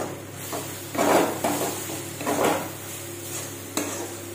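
Spice masala for matar paneer is stirred and fried in oil in a pan, with several bursts of scraping spatula strokes over a steady close sizzle.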